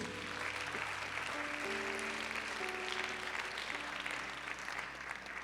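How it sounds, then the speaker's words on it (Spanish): A church congregation applauds during a sermon: steady, moderately distant clapping from many people holds throughout, with sustained organ or keyboard tones underneath. "Denle ese aplauso a Jesús."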